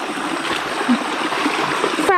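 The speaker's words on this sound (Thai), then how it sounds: "นี่เป็นน้ำไหลลงนี้เนาะ" Steady rushing of water flowing down a stream, fairly close, with a voice faintly present in the background.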